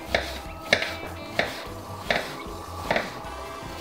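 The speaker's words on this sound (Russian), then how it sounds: "Пока накаливается масло, нужно порезать лучок." A knife chops onion on a cutting board while sunflower oil heats for bozbash, giving sharp, evenly spaced knocks roughly every 0.7 seconds, close and clear over a faint kitchen background.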